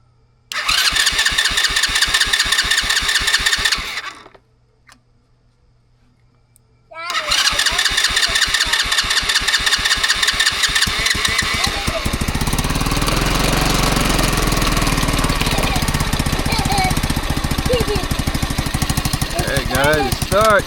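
ATV engine fired up after starter fluid was sprayed into the carburetor: a loud rapid chugging burst that dies for a couple of seconds, then catches and keeps running as a steady rattling idle with voices talking over it.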